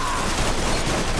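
Dense, loud gunfire fills the scene in Mafia 3, a steady rattle of shots with no break and no speech over it.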